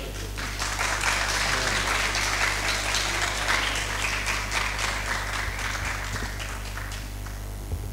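An audience at a poetry mushaira at GC University applauds steadily for several seconds, a dense wash of many hands clapping over a low background hum.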